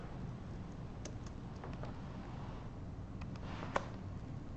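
Faint, sparse keystrokes on a computer keyboard, a few isolated clicks spread over a few seconds in a quiet room, with one slightly louder tap near the end.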